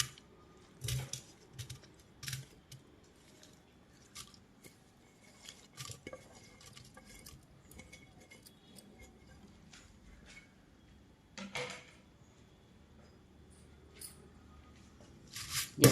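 Chopped onion, tomato and curry leaves stirred with a ladle in a pot: sparse, quiet metallic clinks and scrapes at irregular intervals, with soft shuffling in between and near-silence around them.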